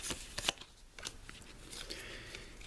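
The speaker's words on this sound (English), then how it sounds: "we draw another 6 cards" Cards from a Legendary Encounters: Predator deck-building board game being drawn and handled on a table: a few quick papery snaps and slides near the start, then softer shuffling rustles, close and fairly quiet with no talking.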